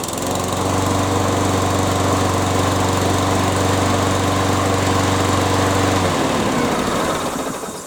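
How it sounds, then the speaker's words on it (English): A petrol lawn mower engine started at full throttle without choke, running loud and close with a steady buzzing drone, then the pitch drops and roughens as it cuts back near the end. "we put the accelerator on full forward, pull back on the OPC and start the lawnmower."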